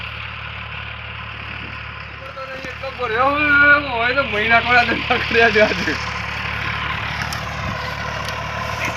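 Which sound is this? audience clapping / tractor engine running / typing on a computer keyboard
tractor engine running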